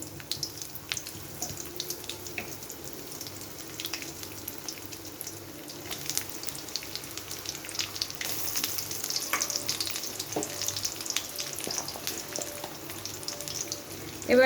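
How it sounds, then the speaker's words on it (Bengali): Chopped onions hit hot oil for a pumpkin stir-fry, producing a steady close sizzle and hiss with scattered crackles that grow slightly busier over the span, with no talking. "এখন আমি পেঁয়াজ কুচি দিয়ে দিচ্ছি"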